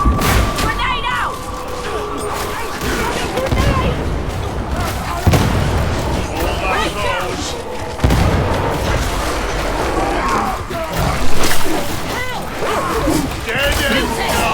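A grenade going off in the Warhammer 40,000: Darktide shooter amid heavy combat, a loud boom among ongoing gunfire and explosions, with in-game character voices shouting over the noise.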